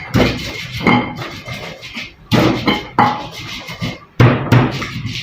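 Spices being ground by hand in a stone mortar (ulekan) for goat tongseng, uneven scraping and knocking strokes in several bursts with short pauses, close up.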